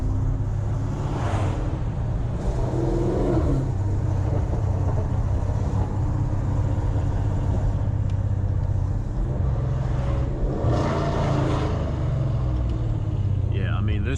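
Dodge Challenger ScatPack V8 rumbling from inside the cabin, a deep steady exhaust drone with a few swelling revs, and someone talking over it throughout.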